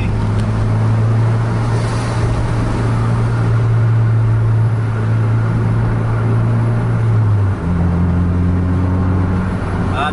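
Car engines drone steadily on a roadway during an overtaking manoeuvre, a loud, continuous low hum that shifts pitch near the end as one vehicle changes gear or speed.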